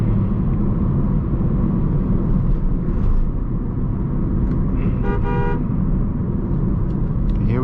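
A 2004 Toyota Corolla G nearing 100,000 km cruises toward 80–90 km/h, with continuous road and engine rumble heard from inside; a short horn toot sounds partway through.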